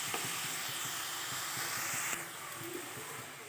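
Greens fry in a pan as a little water is added, giving a steady broad sizzle and hiss with faint stirring knocks that drops slightly in level partway through, quiet and without talk.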